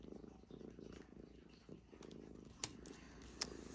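A house cat purrs softly and close, a faint rhythmic rumble under quiet talk with a couple of sharp crinkling clicks from card-making materials.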